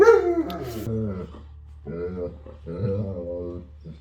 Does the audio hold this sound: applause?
no